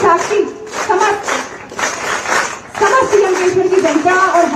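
Crowd clapping at a school building inauguration ceremony with a Hindi public address in Yamkeshwar, steady dense applause mixed with a loud voice over a PA.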